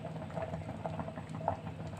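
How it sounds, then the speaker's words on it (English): Moringas and potatoes boil in a cooking pot, giving a steady bubbling patter with small pops throughout, close and moderately loud, no talking. "These are moringas and potatoes that I'm boiling it."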